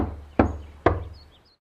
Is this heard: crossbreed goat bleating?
no